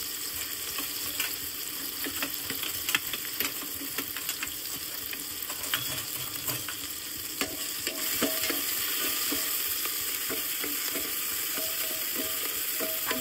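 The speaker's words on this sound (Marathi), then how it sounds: "कांदा टाकून आता आपण हे सर्व व्यवस्थित फ्राय करून घेणार आहोत 2 मिनिटं" Chopped onion and turmeric fry in a pan for pav bhaji, giving a constant crackling sizzle broken by frequent stirring scrapes and taps. The sizzle grows slightly louder toward the end.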